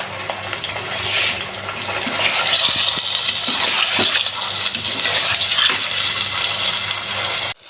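Bone-in chicken frying in a generous amount of oil in a karahi, a loud, steady sizzle and crackle running throughout with occasional spits, close up and with no talking.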